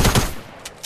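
A single sharp Fortnite gunshot lands a headshot, loud and close, followed by a couple of faint, quick high clicks.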